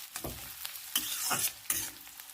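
Onions fry in oil for a home-style mutton curry, giving a quiet, continuous sizzle broken by several soft scraping strokes of a spoon through the pan.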